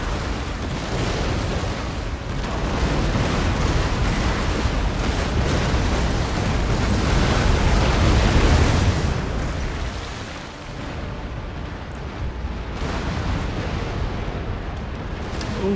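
Ship cannons fire in an Empire: Total War naval battle, a dense, continuous rumble of overlapping booms that swells and then eases, with no speech over it.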